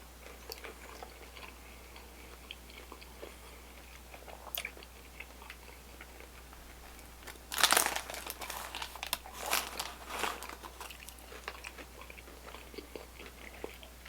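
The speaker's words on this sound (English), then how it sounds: "I want to try these crispy jalapenos as well" Crispy jalapenos on a Burger King Mexican chicken sandwich are bitten and chewed close up, with a burst of loud crunching partway through and some quieter wrapper crinkles and chewing around it.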